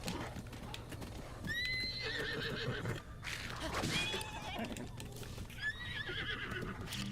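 A horse in Zelda Breath of the Wild neighs repeatedly, three clear whinnies, over steady clip-clopping hooves close by.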